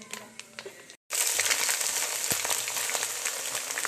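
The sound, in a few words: mustard seeds spluttering in hot oil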